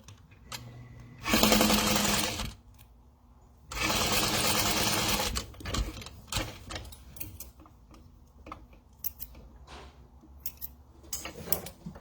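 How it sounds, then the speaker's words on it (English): A sewing machine topstitches the side of a fabric wallet in two steady, close bursts of rapid stitching. Soft handling clicks and rustles follow in the quiet between them. "just fold the other side in to meet the back and top stitch down that side"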